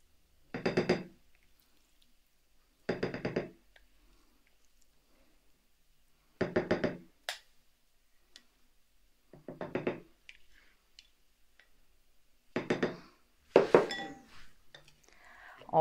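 A spoon stirs cheese into a batter of yogurt, sour cream and oil in a bowl, giving six separate bursts of clinking and scraping against the dish with quiet pauses between them.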